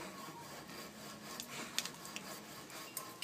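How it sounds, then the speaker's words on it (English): Sanding screen rubbed and wrapped around a pole while priming, a soft continuous scraping rasp with a few sharper scuffs, close and fairly quiet, no talk. "Wrap the screen, hard to reach places."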